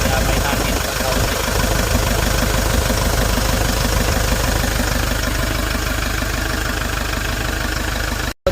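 A Hyundai Porter2 with a D4CB CRDi diesel engine knocking at idle, a steady loud rattling clatter running continuously close by, with no one talking, before it cuts off abruptly near the end.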